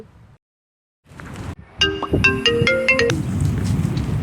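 A phone ringtone starts after a short silence, a bright, synthetic melodic tune of quick repeated notes playing over a muffled, rumbling background.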